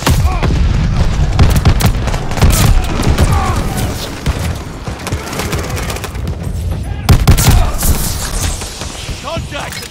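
Gunfire in the video game Call of Duty during a hardpoint match: loud, dense bursts of automatic fire and booming explosions run continuously throughout, with shouted voices mixed into the chaos.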